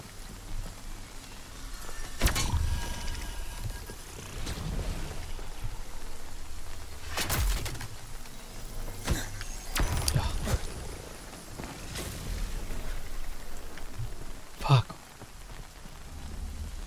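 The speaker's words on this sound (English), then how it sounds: "and it had to be raining." Steady rain falls outdoors in wet, miserable weather, a continuous patter with several sharper louder spatters and knocks breaking through now and then, no talking over it.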